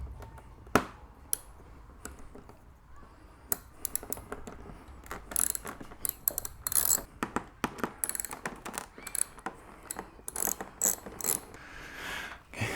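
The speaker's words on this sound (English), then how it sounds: "let's go ahead and take the front bolts off first" A ratchet removes the front bolts on a Harley Batwing fairing, with clicking pawl bursts, metallic taps and small clanks in an irregular rhythm, close by and fairly quiet, separated by brief pauses.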